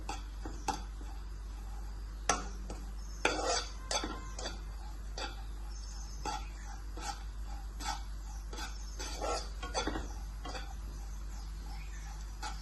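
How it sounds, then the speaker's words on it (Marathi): Cashew pieces frying in ghee in a pan while a spoon stirs them, giving irregular metallic clinks and scrapes against the pan over a steady low background, with no talking. "इथे तूप टाकून मी काजूचे तुकडे टाकले"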